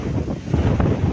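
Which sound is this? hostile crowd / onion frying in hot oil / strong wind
strong wind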